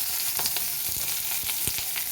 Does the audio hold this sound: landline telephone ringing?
no